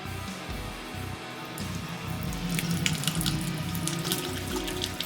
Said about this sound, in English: I'm just going to drain this out, and I'll make sure I get all that nice sugary goodness out